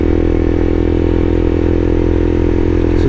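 A motorcycle rides steadily over a rough asphalt and rock mixture road, its engine droning loud and close with constant road and wind rumble, no talk.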